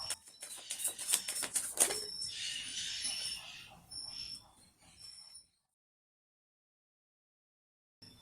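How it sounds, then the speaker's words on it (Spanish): Tarot cards are shuffled in quick crisp bursts of riffling and tapping for about five seconds, close and clear, followed by silence. "Ahora vamos a barajar las cartas de profundización para la carta de duendes al revés"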